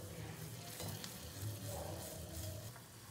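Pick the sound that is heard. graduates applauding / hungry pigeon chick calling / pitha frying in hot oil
pitha frying in hot oil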